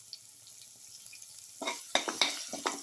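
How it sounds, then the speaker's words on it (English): Cumin seeds hit a hot pan and start frying, bursting into a brisk crackling sizzle after a quiet start, with sharp pops and spits scattered over the last second, close and clear. "Now put in the cumin seeds"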